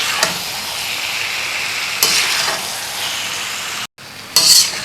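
Boiled cauliflower with masala is stirred in a frying karahi, giving a loud, close, steady sizzle with occasional scraping strokes from the spoon.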